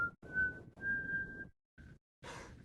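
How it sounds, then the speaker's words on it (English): Someone whistles a single steady note in several short breathy bursts, with pauses between attempts, close and fairly quiet. "I just recently actually learned how to whistle, and I can only do one note."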